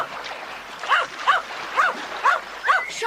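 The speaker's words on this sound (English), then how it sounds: "Timmy began to bark excitedly." A dog named Timmy barks excitedly, five short, evenly spaced yelping barks, close and clear over a soft background hiss.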